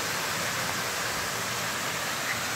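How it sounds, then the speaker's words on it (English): Constant broadband rushing water roars without pause, a steady waterfall-like wash with no other distinct sounds. "The waterfall is in the background"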